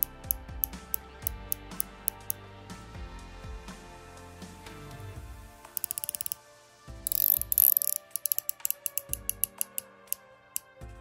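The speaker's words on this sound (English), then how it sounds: "The bezel is kind of increasing the size, but just I'll be quiet so you can hear the clicks." Rotating bezel on a Seiko-style 500m professional dive watch being turned, giving a long series of crisp, evenly spaced clicks, close up and alone with no talking.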